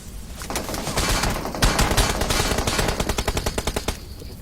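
Bursts of automatic gunfire in a battle royale shooter game, dense overlapping shots building into a rapid rhythmic stream of cracks, loud and close, with no speech.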